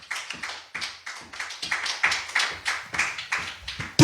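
A church congregation applauds for the Holy Spirit, a steady train of fairly quick, slightly uneven claps that carries on loud and close for several seconds with no voices over it.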